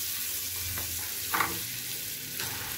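Butter heats in a kadai for semai payesh, giving a soft, steady sizzle with a brief scraping stir midway; no one speaks.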